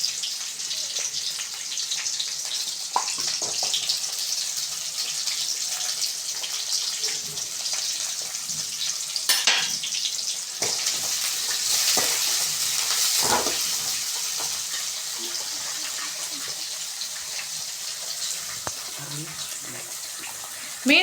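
Chopped big onions and shallots frying in a pan for a Tamil sankara fish curry, giving a steady, bright hiss throughout with a few faint clinks.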